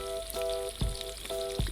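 Onions and curry leaves frying in oil in a pan for a fish curry: a steady, moderately quiet sizzle with a few stirring knocks, and no voices.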